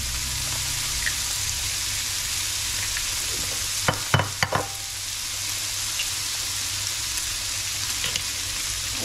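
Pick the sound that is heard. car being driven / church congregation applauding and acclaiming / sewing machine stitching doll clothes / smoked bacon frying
smoked bacon frying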